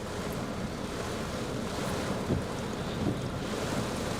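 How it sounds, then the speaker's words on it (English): Heavy rain lashes down at Newcastle International Airport, a dense, continuous roar blended with gusting wind across the microphone, loud and unbroken throughout with no voices. "You could probably hear the rain there, folks. It's absolutely lashing it down."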